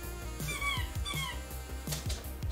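A dog whimpers and yips in short, high, repeated squeals from slightly behind, in a room with no voices.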